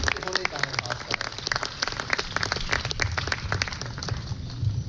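Audience applause fills a hall at a Hindi poetry recital (kavi sammelan): dense, steady clapping from a crowd, sustained and fairly loud throughout with no break.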